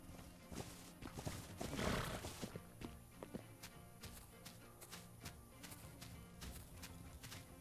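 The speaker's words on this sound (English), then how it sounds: "My horse is following me." A horse in the video game The Legend of Khiimori follows along, with clip-clop hooves, snorts and a rising whinny over a steady game ambience, no voices.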